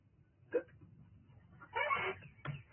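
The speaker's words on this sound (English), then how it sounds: "And the hiccups." A person hiccups in a quiet room, with a sharp single hiccup, a longer noisy burst a second later and a final short one, all fairly close.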